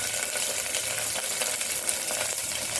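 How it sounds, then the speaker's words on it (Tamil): Mustard seeds and curry leaves fry in hot oil for pongal sambar, a steady, dense crackle of close spattering and popping with no voices. "இப்போ கடுகு போட்டுக்கலாம். கருவேப்பிலை போட்டுக்கலாம்."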